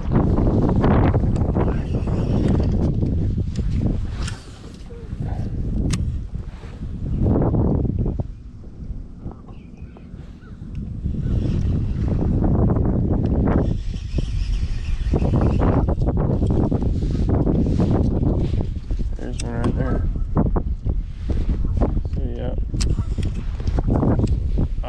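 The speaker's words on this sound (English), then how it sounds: "It is too windy" Strong gusts batter the microphone on open water during a winter kayak bass-fishing outing, a loud roaring rush that surges and briefly eases midway before building again.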